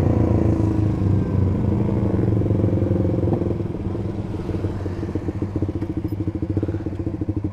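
A Suzuki GSX-R150 motorcycle engine running on Pertalite fuel revs loud and close, a steady buzzing roar that eases off into a rapid, pulsing idle-like throb.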